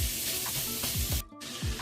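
Ground meat browning with garlic powder in a hot pan for keto lasagna, giving a steady loud sizzle with occasional stirring scrapes and a short break in the sound.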